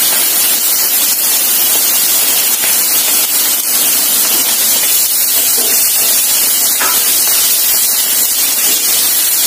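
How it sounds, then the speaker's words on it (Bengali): Onions fry in hot oil in a pan for a pomfret fish curry, a loud, steady, close hiss of sizzling that fills the whole stretch without a pause. "পেঁয়াজটা একটু ভাজা হয়ে গেছে"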